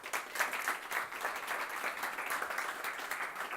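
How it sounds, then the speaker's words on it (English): A live audience at a Startup Grind event in Andorra gives a sustained round of applause for the sponsors, a steady wash of many hands clapping for several seconds with no voices over it. "give a really warm applause for our sponsors tonight"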